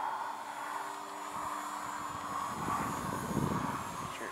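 An Extreme Flight 52-inch Slick 580 radio-controlled 3D aerobatic plane flying maneuvers, its motor and propeller droning steadily at moderate distance with the pitch rising and swelling toward the end.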